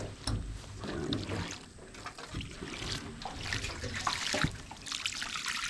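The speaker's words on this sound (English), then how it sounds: "we're finna just pour the water out now" A water and vinegar mix poured out of a rusty gas tank from a 1992 Honda Accord, a continuous splashing gush with uneven glugs and spatter, close and fairly loud.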